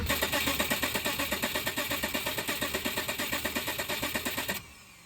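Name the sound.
Subaru EZ30 engine cranking over to prime the oil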